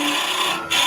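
A parting tool makes a shearing cut on a spinning wood lathe while turning a top. It gives a steady, close, continuous scraping hiss with a brief dip near the end before it resumes.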